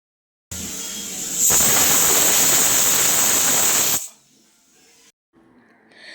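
A loud, steady hiss of onions frying in hot oil runs for a few seconds, then drops abruptly to faint background noise.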